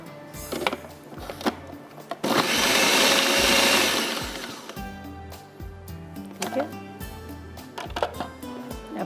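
A food processor whirs loudly for about two seconds as it chops shredded beef and bread slices, a dense steady burst between quieter stretches of kitchen clatter and speech.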